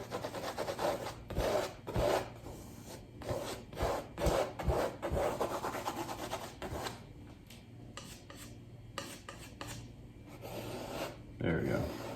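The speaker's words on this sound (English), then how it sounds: "rub it into the canvas," Oil paint being rubbed and pushed into a canvas with a brush makes close, soft scrubbing strokes in irregular bursts with short pauses between them.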